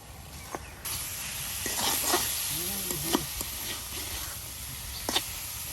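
Chopped bottle gourd stir-fries in a pan with a steady close sizzle and hiss, marked by a few sharp scrapes and clinks of the spoon against the pan.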